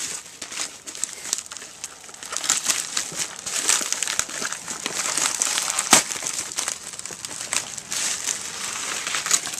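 Bubble wrap crinkles and crackles continuously while a package is unpacked, a dense close-up rustle with occasional sharper snaps and no voices.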